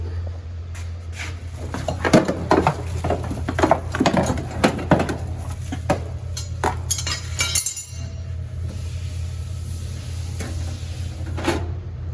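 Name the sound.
metal griddle being fetched and handled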